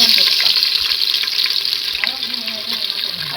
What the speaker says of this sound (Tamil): இப்போ இதெல்லாம் நல்லா எண்ணெயில் கொஞ்சம் நல்லா பொரியிட்டோம். இப்போ வெங்காயம் போட்டுக்கலாம்.